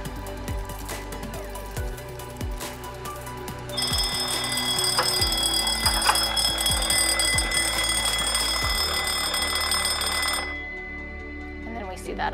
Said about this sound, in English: And then we see that alarm comes in.